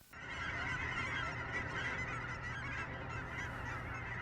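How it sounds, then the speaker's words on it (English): Large flock of wintering geese in Oregon honking continuously, a dense, loud chorus of overlapping calls filling the air without pause. "The goose song out here can be absolutely ear-shattering at times"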